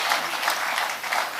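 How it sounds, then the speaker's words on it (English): Applause for a keynote speaker at a formal gathering, a dense steady clapping from a sizeable audience sustained throughout, fairly close and even in loudness. "another round of applause for our keynote speaker this morning"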